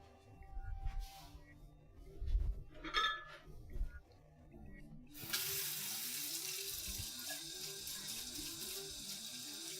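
A kitchen tap runs steadily after a few clinks and handling sounds, drawing cold water for pizza dough; the close, continuous water flow begins about halfway through and holds to the end, with no talking.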